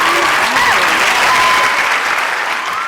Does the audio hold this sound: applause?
yes